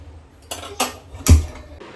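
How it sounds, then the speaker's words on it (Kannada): A small child bangs metal pots and vessels together, making three distinct loud metallic clanks close by with short pauses between. "ಅವನಿಗೆ ಪಾತ್ರೆ ಅಂದರೆ ಅಷ್ಟು ಇಷ್ಟ ಆಟ ಆಡೋಕ್ಕೆ"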